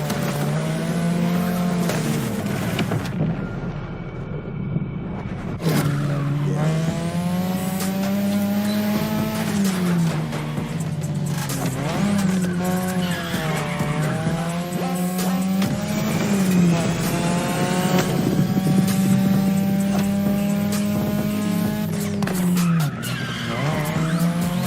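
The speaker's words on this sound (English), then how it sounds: "Gen 2002 Mazda RX-7. Lightweight, compact, a sick rotary engine, and one hell of a look." A 2002 Mazda RX-7 with a lightweight rotary engine races in The Crew Motorfest, engine droning loud and steady throughout with revs rising and falling between shifts and tires skidding and squealing, no talk over it.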